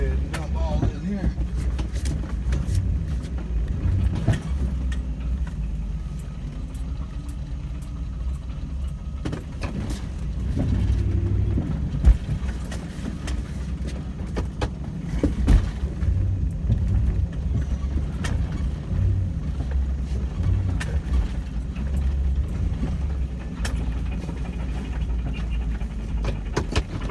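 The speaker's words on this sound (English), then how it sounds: "Now I gotta back my trailer in." Vehicle idling and creeping in reverse while backing a trailer into the dumping area at Harrison County landfill; a steady low engine rumble with faint rattles and clunks runs throughout, with a voice talking over it.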